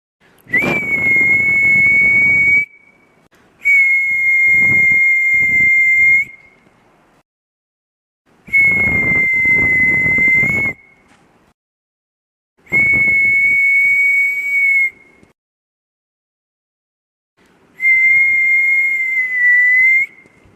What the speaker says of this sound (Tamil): ஆ வருது வருது வருது விசிலு வருது